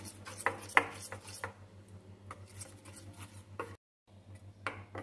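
Thick semolina batter is beaten by hand in a bowl, giving close, irregular tapping and knocking strokes with brief pauses and no talk.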